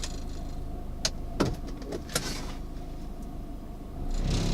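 A Suzuki Aerio 2.3L with a bad motor mount idles in neutral, a low, steady engine rumble broken by a few sharp knocks and clunks, then rising slightly at the end.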